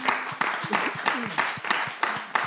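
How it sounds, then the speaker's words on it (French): Audience applause with a steady rhythmic clapping pattern, moderately loud, with voices talking over it. "On va continuer à applaudir jusqu'à ce qu'il arrive ici."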